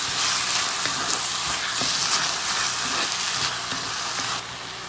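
Chopped canned tomatoes go into a hot frying pan for saag paneer, setting off a loud, steady sizzle with stirring scrapes that eases slightly at the end.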